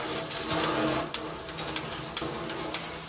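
Water sprays from a shower head while a bike gets rinsed down, a steady hissing splash that is loud at first and then softer, with small spattering bursts.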